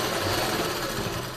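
A sewing machine stitches a silk suit with dense, continuous mechanical whirring and rapid needle chatter, loud and close. It runs steadily with no pauses and no talking.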